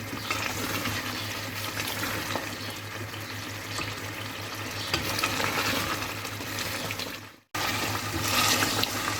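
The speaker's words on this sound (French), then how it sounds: "On mélange bien." Mutton korma being stirred as it fries in oil: a continuous close sizzle with scraping stirring strokes throughout, a brief dropout near the end, then the frying noise resumes.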